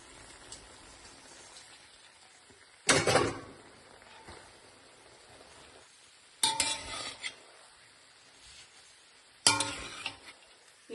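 Dried, pounded beef fries in spiced oil in a pan, scraped and stirred in three loud, separate bursts over a low, steady sizzle, with no talking.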